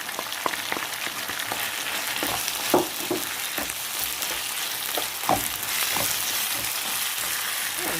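Carrots frying in a pan for a pasta dish, a steady close sizzle with a few brief louder crackles and pops scattered through, no voices.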